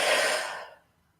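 One long, deep breath is blown out in a breathy rush that starts strong and trails off into quiet within a second, close and alone.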